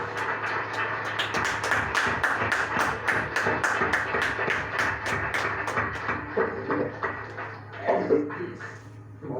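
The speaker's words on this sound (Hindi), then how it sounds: "और तालियों की गूंज भला किसे अच्छी नहीं लगती।" Audience applause at a spiritual poetry gathering, a crowd clapping in a dense, moderately loud burst that thins out toward the end, with a faint voice emerging as it fades.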